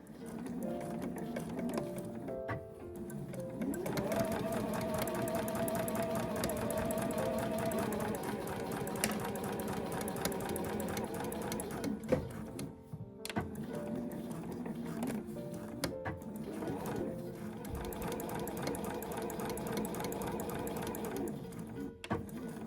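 A sewing machine stitches quilted nubi fabric one centimetre from the edge for a small drawstring cooler tote, its steady close mechanical whir running continuously with brief pauses and restarts.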